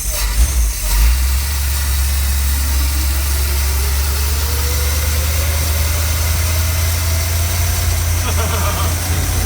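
A 1977 Dodge B200 van's engine runs while driving, a loud, steady low rumble throughout with a slowly rising tone and a rough burst at the start.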